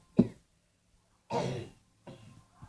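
Three separate coughs or throat-clearing bursts, close and fairly quiet, spaced about a second apart with silence between.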